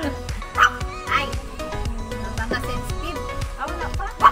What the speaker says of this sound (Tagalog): Ito naman itong mga aso na to.